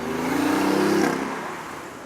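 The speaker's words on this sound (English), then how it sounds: "It's a 911 Turbo, 997." A Porsche 911 Turbo of the 997 generation drives past on a Miami street. Its engine note swells briefly and then fades as the car goes by.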